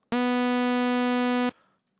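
A single bright, buzzy synthesizer sawtooth tone holds steady at one pitch for over a second, then stops abruptly with a short fading tail.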